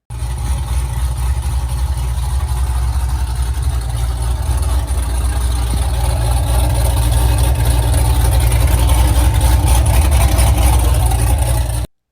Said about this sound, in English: And they even tried open headers on the dyno, and that's always interesting.